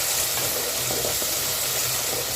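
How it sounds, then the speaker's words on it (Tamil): Tomatoes, onion and green chili sauté in a pan with a steady, close, even sizzle and faint stirring, no voices. "இப்போ தக்காளி நல்லா குலைவாக வதங்கட்டும்."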